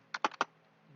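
Four quick keystrokes on a computer keyboard while commands are entered for IPv6 OSPF router configuration, crisp and close, bunched in the first half second and then quiet.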